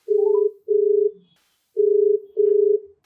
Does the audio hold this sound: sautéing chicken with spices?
no